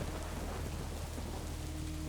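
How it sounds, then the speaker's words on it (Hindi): Heavy rain pours steadily and loudly at night, with low thunder rumbling beneath a dense, unbroken roar of falling water. "बाहर की तरफ देखा तो बहुत ज्यादा बारिश हो रही थी"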